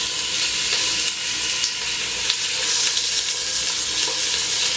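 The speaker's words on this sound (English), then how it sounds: "It's going to sizzle." Short ribs searing in a hot pan make a loud, dense, continuous sizzle with a crackling spatter that stays even from start to finish, with no talking over it.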